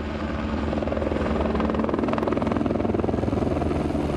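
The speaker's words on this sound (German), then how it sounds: "Am Fuße der Westflanke muss alles schnell gehen, wenn der Helikopter kommt." Helicopter at the foot of the west flank of Mont Blanc in the French Alps, its rotor beating in a steady, loud, close chop that holds without a break.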